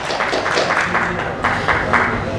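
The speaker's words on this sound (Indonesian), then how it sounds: "Berikan tepuk tangan yang meriah untuk Sanggar Pemerintah." An audience at a live public dialogue event applauds with dense, steady clapping that fills the moment, loud and close, with no clear speech over it.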